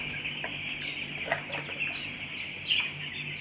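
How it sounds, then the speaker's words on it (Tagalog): Backyard chickens clucking on a poultry-keeping farm, a continuous soft chorus of hens with a couple of louder cackles and a brief rustle of wings, no talking. "Ito naman ang bulas ng manok namin guys"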